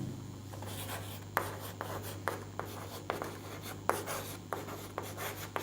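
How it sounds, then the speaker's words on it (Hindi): Strokes of writing on a board in a physics lesson on LCR circuit resonance, a steady series of short, fairly loud taps and scrapes at close range with no talking over them. "तो मैं लिख देता हूँ"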